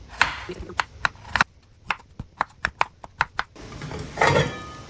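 Knife chopping potatoes into medium pieces on a board for aloo matar pulao, a series of sharp, close, evenly spaced thwacks with brief pauses, plus some handling noise.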